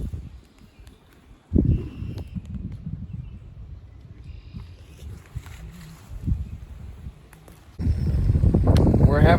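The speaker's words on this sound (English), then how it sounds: "It is pretty windy." Strong wind gusts buffeting outdoors beside a fire, roaring loudly through most of the clip and surging stronger near the end, with people talking underneath.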